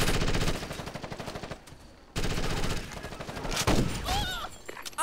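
Rapid automatic gunfire crackles through a Ghost Recon Advanced Warfighter firefight, loud and sustained with a brief lull midway before resuming, and a short shouted voice near the end.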